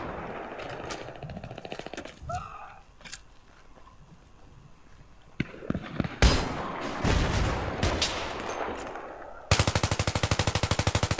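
Battlefield 3 multiplayer gunfire, with scattered bursts and single shots, then a loud sustained automatic burst at the end, mixed with other game noise.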